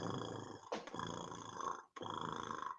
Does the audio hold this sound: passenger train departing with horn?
no